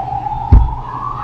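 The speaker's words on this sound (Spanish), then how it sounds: "Las sirenas, si no dejan hablar, es la seguridad" Security sirens wailing as a steady, sustained tone in the background of an indoor lecture space, with a brief low thump partway through.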